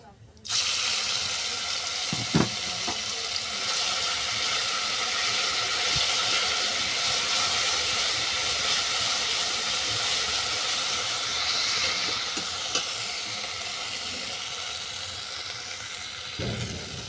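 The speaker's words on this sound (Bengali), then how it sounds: "এরপর আমি বাটা মশলাগুলোকে দিয়ে দিচ্ছি।" A ground paste of ginger, poppy seed, cashew, raisin and melon seeds hits a hot pan and fries with a loud, steady hiss and sizzle that lasts throughout, broken by a few faint utensil knocks.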